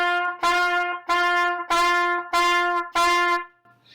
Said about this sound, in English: I'm going to go ahead and show you what it sounds like when you use the ta and the ka syllable for the double tongue.